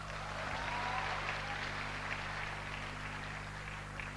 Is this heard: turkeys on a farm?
no